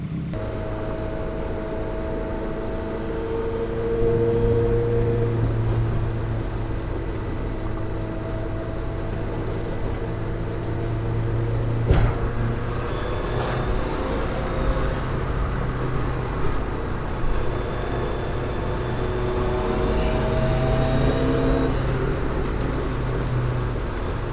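A Datsun 510 driving on the road, heard from inside the cabin: a steady engine drone with shifting tonal pitches as it accelerates and changes gear, plus a sharp knock near the middle.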